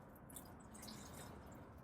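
A watering can sprinkles a little water over a potted strawberry plant, a soft continuous patter and trickle close by, quiet and steady, no talking.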